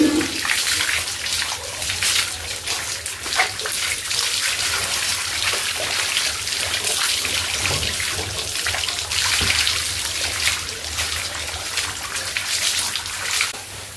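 Steady splashing and running water poured over Gauri, a stray cow being bathed at home, a close continuous wash with small splashes and no voices.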